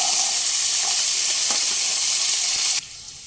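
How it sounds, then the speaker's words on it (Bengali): Chopped carrot and okra fry in hot oil, a loud close continuous sizzle with faint stirring scrapes, which drops abruptly to a softer hiss near the end. "ওই একই তেলের মধ্যেই দিয়ে দেবো একটা কুচনো গাজর আর ওই ছয় থেকে সাতটা কুচনো ভিন্ডি"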